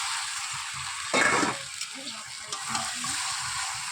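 Chicken pieces go into a spice paste frying over a wood-fired clay stove, giving a brief burst of hiss and splash, then a quieter ongoing sizzle with soft stirring.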